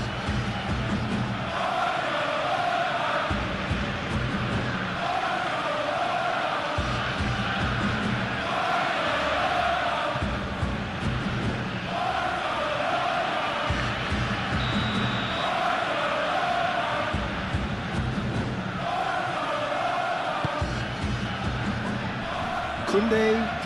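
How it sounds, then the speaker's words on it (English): Stadium crowd in a PES 21 football match between Barcelona and Eintracht Frankfurt roars and swells in steady waves, the noise filling the whole stretch, with commentary-like voices mixed into it. "but it certainly got the crowd going"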